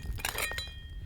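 Teal glass seaweed jar knocked and clinked while handled outdoors, a few quick bright ringing taps over about a second, close to the microphone and fairly quiet.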